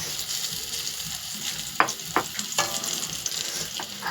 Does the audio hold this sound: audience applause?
no